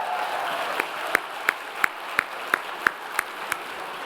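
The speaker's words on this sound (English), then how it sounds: "Now give yourselves a round of applause just for showing up." Audience at a journalism convention master class applauding in a hall, heard as a run of sharp, evenly spaced claps about every third of a second over a steady crowd murmur.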